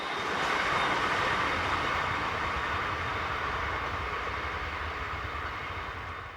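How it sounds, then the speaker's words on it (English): A BLS Class 465 electric locomotive hauls a container freight train carrying refrigerated containers on the BLS line between Thun and Kandersteg in Switzerland, a steady broadband rumble and rush of wheels on rail that slowly fades as it heads away. "is next to appear as it heads away from the camera hauling train 63680 from Brig to Niederbottingen"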